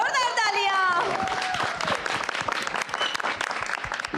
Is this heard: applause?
yes